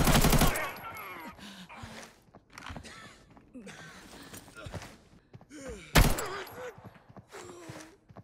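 A gunfire exchange in the video game Arena Breakout, with a loud burst of shots at the start and another later, and scattered thuds and voices in between.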